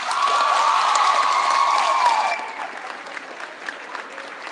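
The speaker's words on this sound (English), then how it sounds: "One round of applause for your 8th grade boys basketball" An audience at a middle school awards celebration applauds the 8th grade boys basketball team, dense clapping with a faint tonal whine for about two seconds before thinning into scattered, quieter claps.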